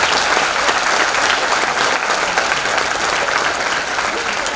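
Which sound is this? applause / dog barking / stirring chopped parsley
applause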